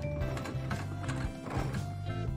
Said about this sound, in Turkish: Bakın, bu atı olan pembe bir fayton.